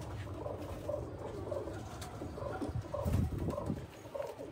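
Pigeons coo and shuffle inside a crowded coop, low throaty murmurs overlapping with soft rustling and patter of feet, close and fairly quiet throughout.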